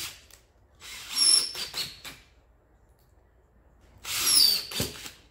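A power drill drives screws into a wooden blank glued up from 1x4 boards for turning a salad bowl on a lathe, in two whirring bursts of about a second each separated by quiet, close and fairly loud.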